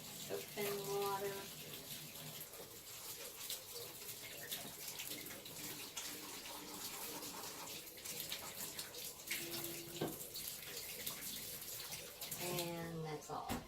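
Water runs steadily from a tap during handwashing with soap, a continuous close splashing rush with faint voices appearing briefly at the start and again toward the end.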